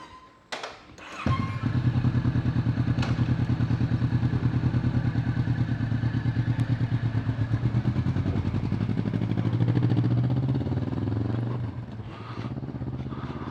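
A Kawasaki Vulcan S motorcycle starts with a clunk and settles into a loud, steady, rhythmic engine throb close by, revving slightly before easing back near the end, with no talk over it.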